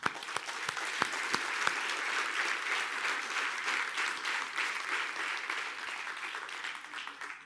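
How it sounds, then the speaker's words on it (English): Audience applause fills a hall for a group being thanked, a dense, steady wash of many hands clapping for the full length, with a few sharp nearby claps standing out early on. "give yourself and Theodoros and the rest of the gang a big applause"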